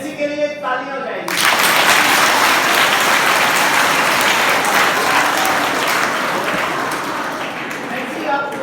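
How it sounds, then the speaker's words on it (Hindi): An audience at a Basant Panchami motivational talk in Kurukshetra applauds for a girl named Nancy, a loud sustained wash of clapping that starts after a brief spoken moment and continues steadily. "नैन्सी के लिए तालियां हो जाएगी।"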